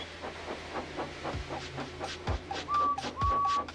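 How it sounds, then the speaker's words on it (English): A small model steam engine puffs in a steady, quickening rhythm of soft chuffs, with a few deeper thumps and a shrill whistle-like hiss near the end. "they lit his fire, made lots of steam, and Edward puffed away"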